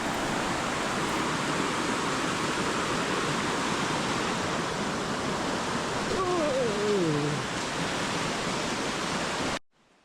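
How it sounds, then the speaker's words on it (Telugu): Constant roaring rush of a nearby waterfall in Karnataka's Western Ghats, steady and loud, with a brief faint bird-like call partway through before it cuts off. "ఈ వాటర్ ఫ్లో అనేది మొత్తం ఫాల్స్ అనమాట"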